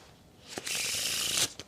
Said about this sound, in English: if I shuffle it one more time here